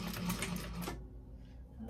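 Sewing machine back stitching a seam on a Pelican tote bag, a short rapid burst of stitching for about a second before it stops, with a voice speaking nearby.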